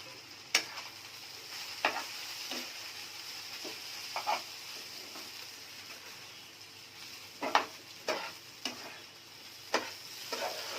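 Food being stirred in a pan in a home kitchen, a soft sizzle underneath with scattered scraping and clinking strokes of a utensil, irregular and fairly close.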